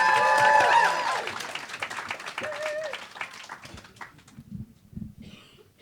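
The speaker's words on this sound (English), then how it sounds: "keep it clapping, whooping, cheering" A comedy club audience claps, whoops and cheers as a comedian is welcomed to the stage. The burst starts loud and dense, then gradually thins out and fades over several seconds.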